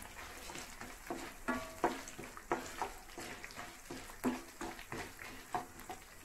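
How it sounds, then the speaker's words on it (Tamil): Small pieces of ginger, four garlic cloves and a few coconut slices sautéing in a pan, a soft steady sizzle broken by rhythmic scraping stirs every half second or so, close and fairly quiet. "சின்ன சைஸில் இஞ்சி, நாலு பூண்டு, சிறிது தேங்காய் சில்லு, அப்படியே வதக்கலாம்."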